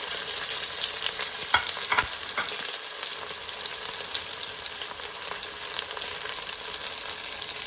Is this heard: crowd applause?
no